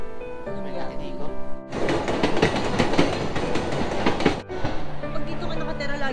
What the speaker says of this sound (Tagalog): Maririnig yung train.